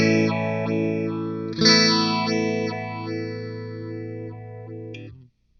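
Positive Grid Modulation Twin guitar effect set to a rounded pulse wave modulation, a sustained distorted guitar chord with a rhythmic swelling pulse, struck again midway and ringing until it cuts off, loud and alone.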